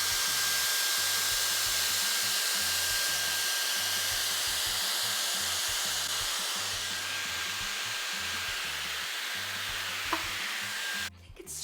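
A Dyson Airstrait hair straightener drying a section of hair: a steady, loud whooshing blow of air with a faint high whine, running constantly before cutting off abruptly near the end.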